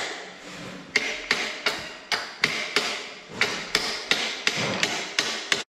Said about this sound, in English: Hammer works better than a wrench apparently.